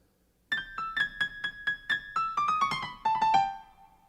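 A flute-like orchestral theme for the bird in Peter and the Wolf: quick, bright, chirping notes in a lively run that steps downward toward the end, clear and alone.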